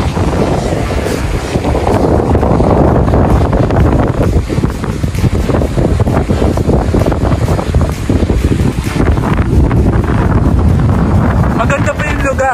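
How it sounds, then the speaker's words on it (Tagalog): Strong gusty wind buffeting the microphone on a stormy coast at Pagbilao, Quezon, a loud rumbling roar with irregular thumps, continuous throughout, with a voice speaking underneath. "Ang lakas ang hangin."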